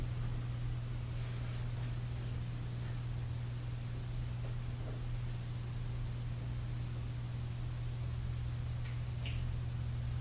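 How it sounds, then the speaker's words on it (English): Steady low hum of indoor air conditioning with a broad hiss of moving air, constant and unchanging, with a few faint distant ticks; no voices. "There's the hum of the air conditioning."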